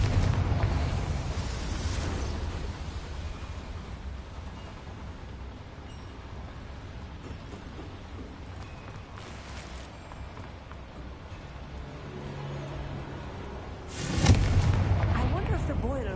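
Explosions from the Confringo fire spell in a Harry Potter video game, a sustained rumbling blast near the start and a sharp, loud burst late in the clip, set against constant game ambience and a voice speaking.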